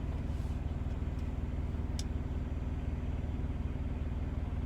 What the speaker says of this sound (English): his truck's been idling ever since I got here yesterday, and it is loud